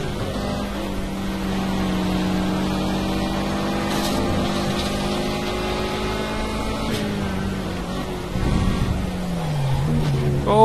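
A BMW in a racing video game, its engine tone droning steadily with slowly climbing pitch, then a rougher burst near the end as it seems to strike something, continuous and fairly loud without talking.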